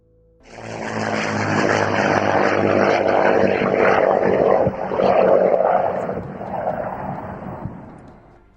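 A de Havilland Mosquito propeller bomber flies past, a loud, steady propeller-engine drone that swells in after a quiet start, holds strong with slight surges in the middle, then eases off toward the end.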